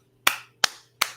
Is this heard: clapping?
yes